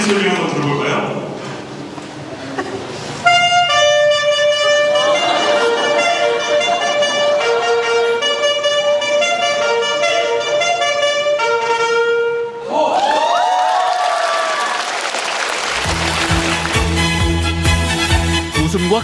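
An alto saxophone plays a flowing melody at a student concert for several seconds between stretches of other sound, with voices speaking before and after the playing.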